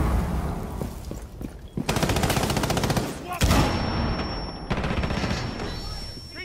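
Video game gunfire comes in several rapid automatic bursts separated by short gaps, loud and close, with sharp cracks and a ringing tone near the end.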